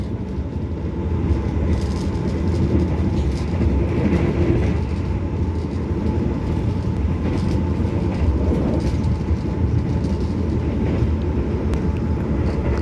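The Argo Lawu passenger train rumbles steadily at over 100 km/h, with a continuous low roar, rattling, and faint clattering from the carriages, no voices.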